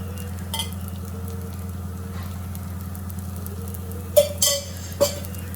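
Adai dosai batter frying in oil on a tawa gives a steady low sizzle, with a few sharp metallic scrapes and clinks of a spatula near the end, no speech.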